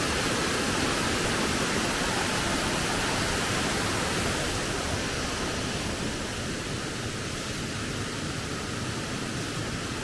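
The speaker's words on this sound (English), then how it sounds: "Mungalli Falls." Mungalli Falls, a World Heritage listed waterfall in Queensland, roars as a steady, dense wash of falling water heard up close, continuous and loud with no voices over it.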